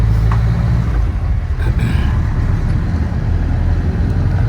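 A police pickup truck passes on a road, a loud steady engine and tyre rumble that stays close and even throughout.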